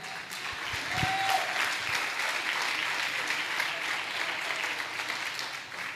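A church congregation claps together during a service, a sustained, even wash of applause from many people filling the room for about six seconds without a break.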